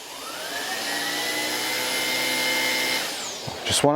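A Miele Duoflex HX1 cordless stick vacuum cleaning a floor whirs steadily at close range, its motor tone rising at the start, then a brief clatter as it shifts near the end.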